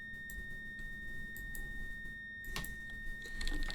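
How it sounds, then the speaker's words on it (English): Steady electronic warning tone sounding continuously in a Class 700 Thameslink train cab in Train Simulator Classic, with faint clicks and cab switch noises underneath and no talking. "I'm buggered if I know what that beeping's about."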